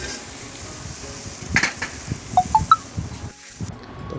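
Beans frying in a hot pan on a home stove: a faint, steady sizzle with a few light utensil clinks and soft stirring knocks, all quiet and close.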